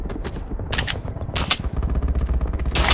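Rapid automatic gunfire and heavy shots from an enemy attack in the shooter game Metro 2033, loud, dense and sustained bursts with sharp cracks throughout, no talk.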